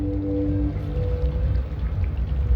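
A completely automated robotic ferry crosses a river in the video game Dreamfall Chapters, a steady low mechanical hum with faint tonal drones and a soft watery wash running continuously underneath.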